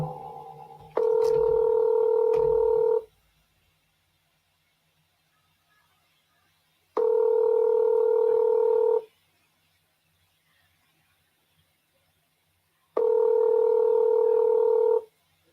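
A telephone ringback tone sounds while calling sons, three evenly spaced two-second tone bursts separated by long silences, clear and alone, with a couple of sharp clicks at the start.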